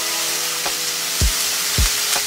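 Pizza sauce and a spoonful of mayonnaise go into a hot pan of rice, which sizzles steadily while a few low thuds and scrapes mark spoon and ingredients hitting the pan.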